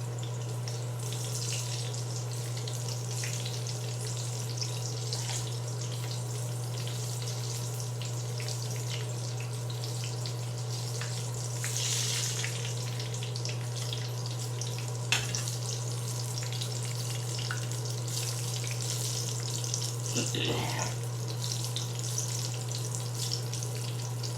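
Food sizzles steadily in a hot pan, a continuous crackling hiss with occasional pops, under a constant low electrical hum.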